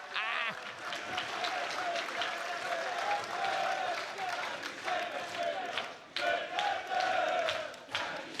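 A wrestling crowd in Doncaster applauds and cheers, dense continuous clapping and shouting that fills the hall, with a few louder swells and no clear talk.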